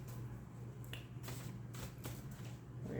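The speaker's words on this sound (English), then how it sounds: "we are shuffling the cards, as you can hear." A deck of cards is shuffled up close, a few quick riffling bursts and soft flicks over a low background hum.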